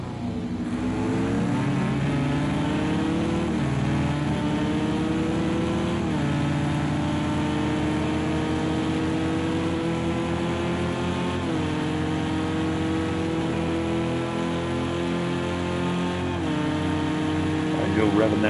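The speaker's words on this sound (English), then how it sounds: "Go revving that thing up." GTE race car engine from a racing sim, lapping Indianapolis, revving continuously with rising and falling pitch through gear changes, loud and steady throughout, with a commentator talking over it.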